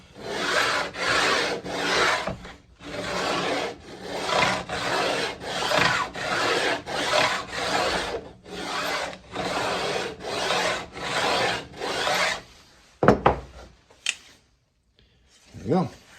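Repeated back-and-forth rasping of a file beveling the ends of guitar frets, about a dozen steady close strokes in a regular rhythm, followed by a few scattered knocks and softer scrapes.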